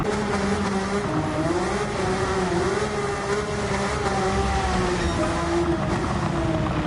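A Subaru Impreza Sedan WRX STi with a swapped engine, driven fast in Gran Turismo 7, holds a loud, steady high-revving drone whose pitch rises and dips through gear changes without a break.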